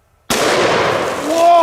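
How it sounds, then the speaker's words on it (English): A 500 Magnum revolver with a 3-inch barrel fires a single very loud, close shot that cuts sharply out of silence, followed by a long ringing, echoing tail. "let's use the 3-inch barrel 500 Magnum"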